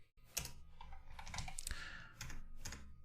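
Close computer keyboard typing, a handful of sharp key clicks spaced irregularly with quieter rattling between them.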